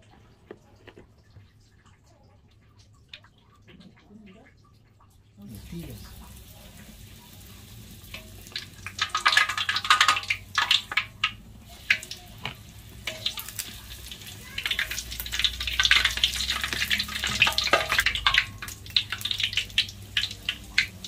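After a quiet start, a steady crackling sizzle of banana-and-chocolate-filled bread dough frying in hot oil builds and continues, with occasional stirring clatter.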